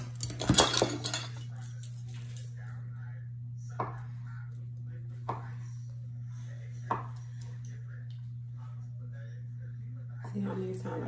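A small kitchen knife cuts vegetables: a busy burst of clatter opens, then single sharp chops at spaced intervals over a steady low hum, with a few more knocks near the end.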